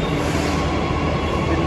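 Interior of a moving Delhi Metro train, with a steady loud rumble of wheels and car noise filling the space, close and continuous throughout.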